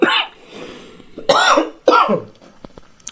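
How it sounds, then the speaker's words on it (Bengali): Two harsh, bursting coughs from someone who is unwell, loud and close, each followed by a short rasping tail, with a faint throat sound before them and no talk. "শরীর খারাপ তো এই জন্য কাশি হচ্ছে।"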